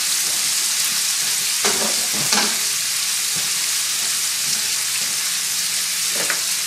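Peppers and onions fry in a pan for a one-pot Spanish chicken and rice, a loud, steady close sizzle with occasional scrapes and stirring knocks, and no talking.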